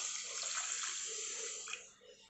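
Milk poured from a small glass into a pan holding sugar, a soft continuous liquid trickle lasting a couple of seconds, fairly quiet and close, tapering off at the end.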